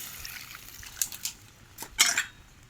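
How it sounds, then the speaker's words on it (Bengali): Water poured into a pan of fried masala of chilli, ginger, onion and garlic paste for a Bengali fish curry, heard as a few brief splashing, sizzling bursts over a quiet kitchen background. "জলটা দিয়ে দিলাম।"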